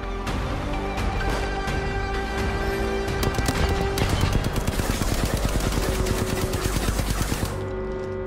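Rapid gunfire in the Apex Legends video game, loud bursts of automatic shots rattling in dense, fast runs that build to a near-continuous stream before stopping abruptly.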